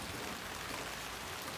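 Rain falling in Jamaica, a brief steady wash of soft hissing patter with no other sounds standing out.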